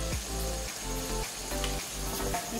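Paneer jalebi frying in hot oil, a steady dense sizzle with faint bubbling that carries on without pause at close range.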